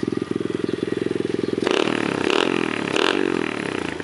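A 125cc four-stroke pit bike engine putters at a fast, even idle, then revs up into a louder rasping roar that rises and falls, heard up close.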